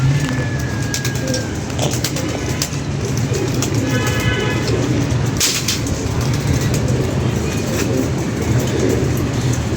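Pigeons coo while eating grain amid a loud, steady rumble of a passing train, with occasional chirps and clatter in a busy, noisy setting.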